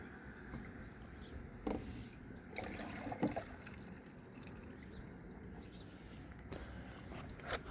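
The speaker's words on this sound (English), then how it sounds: "So I'm gonna put some gas in here and check for leaks" Gasoline is poured into a lawn mower's fuel tank as a faint, steady liquid trickle at close range, with a few soft knocks and shuffling steps and a low background hum.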